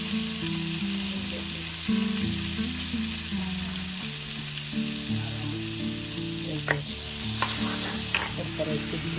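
Butter and regular oil frying together in a pan while fried rice is being made, a strong close sizzle over a low hum, with a few utensil taps toward the end.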